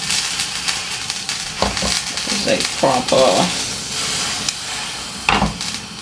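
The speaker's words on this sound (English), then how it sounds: "Oh, this is bubbling over." A pot boils over on the stove while ackee and saltfish cooks, a steady hiss and sizzle with bubbling bursts under brief talk.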